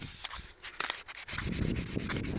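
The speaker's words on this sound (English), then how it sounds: "Sand down all the imperfections." Sandpaper of 1000 grit rubbed back and forth over a plastic hubcap, a close, steady abrasive scratching that starts in short strokes and turns into continuous sanding.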